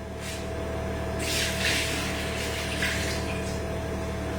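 Water being drained and poured off during cooking, a steady liquid rush with splashy surges in the middle, close and continuous without talk.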